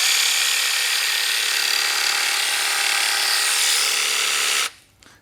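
A single-speed Milwaukee M18/M12 cordless saw runs close and loud with a steady, even whine for about four and a half seconds, then cuts off abruptly.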